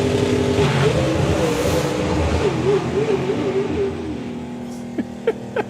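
A drag racing car makes a pass down the strip at an FIA FIM event, a loud engine roaring and climbing in pitch as it accelerates away, fading toward the end, while commentators talk beneath it.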